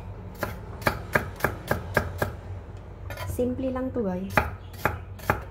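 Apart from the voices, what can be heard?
chopping onion with a knife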